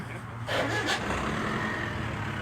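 A car engine catches and starts, a rising burst of engine noise near the beginning that settles into a steady idle rumble.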